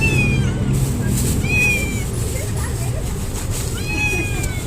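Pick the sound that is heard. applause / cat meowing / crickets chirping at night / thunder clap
cat meowing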